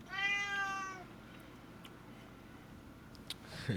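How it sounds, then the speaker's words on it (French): A displeased cat lets out one loud, drawn-out meow near the start, then only faint room noise remains. "J'ai un chat qui est pas content là."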